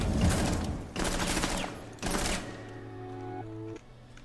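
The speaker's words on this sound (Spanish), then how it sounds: "Dispara, atravesando. A tope, tú dispara a tope." Rapid automatic gunfire in Rainbow Six Siege rattles in three loud, close bursts, each about a second long, followed by ringing electronic tones fading out.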